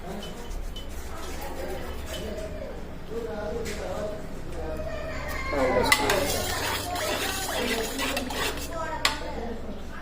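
Stirring with a spoon in a pot as chili powder dissolves into a mixture for a neem flower and raw mango dish, with soft scraping and clinks under steady speech and a louder clatter midway.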